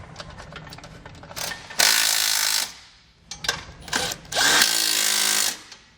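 A power tool drives base plate bolts on a 2019 Toyota Corolla, with two long, loud bursts of whirring and several short, close ratcheting spurts in between.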